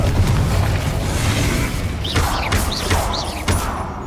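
Confringo spell explosions in Hogwarts Legacy form a dense, continuous roar of booming blasts and crackling fire, with whooshing sweeps cutting through during a boss fight.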